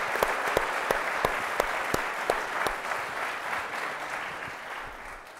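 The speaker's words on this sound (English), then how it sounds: "Let's give Steve a round of applause." An audience applauds for Steve Kerr at a leadership event, with dense, steady clapping and a few sharp, loud claps standing out early. The applause then thins and fades slightly toward the end, with no voices over it.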